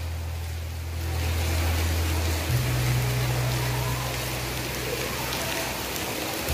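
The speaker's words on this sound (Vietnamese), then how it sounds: "Mưa các bạn." Steady rain falls at the Dai Nam tourist resort in Vietnam, a dense, even hiss of drops with a low engine-like hum underneath that shifts in pitch partway through.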